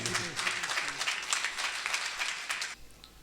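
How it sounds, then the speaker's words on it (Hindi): Dense applause from an audience at a kavi sammelan poetry gathering in Siddharth Nagar, steady for about three seconds before cutting off abruptly, with no voices over it. "एक बार जोरदार तालियां बजाइए"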